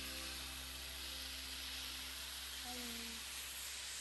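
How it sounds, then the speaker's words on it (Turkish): Syrup poured onto freshly baked, hot künefe in a kitchen gives a steady, loud sizzling hiss that carries on without a break, with faint tonal sounds in the background. "Künefe pişer pişmez şerbeti ilave edilmeli ki o meşhur lezzet cızırdamalarını da"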